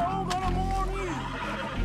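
A horse lets out a loud, close, wavering neigh after being shot in Red Dead Redemption II, the cry rising and falling for about a second over steady game background noise.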